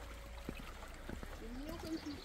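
A small mountain stream, the Ressaigne, runs under a little stone bridge, giving a faint, steady trickle and wash of water with a few soft background sounds.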